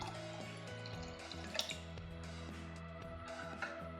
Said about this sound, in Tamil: இந்த மாவு கொஞ்சம் திக்காக இருக்குது, அதனால இன்னும் கொஞ்சம் தண்ணி சேர்த்துக்கலாம்